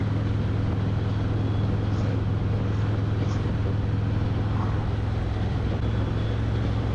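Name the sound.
road hum while riding a Harley-Davidson Road Glide motorcycle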